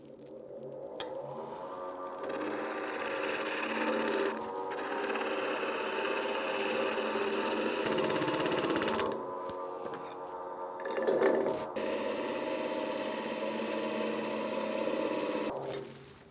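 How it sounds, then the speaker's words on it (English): Green, wet, fibrous wood being sized to a smooth cylinder with a skew chisel on a Laguna 1216 midi lathe; a steady, continuous cutting hiss and hum runs throughout, with brief pauses where the tool lifts off. "So I'm going to use this skew, which cuts a really smooth surface, to size it down, the cylinder down to its final dimension."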